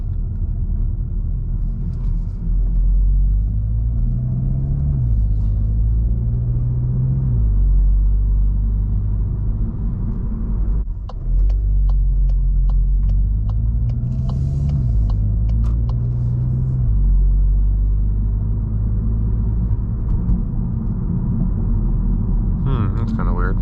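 A Volkswagen MK8 GTI heard from inside the cabin while driving, a steady low engine and road rumble with a few shifts in pitch as it accelerates and turns, and a brief clicking patch midway; a voice talks over it.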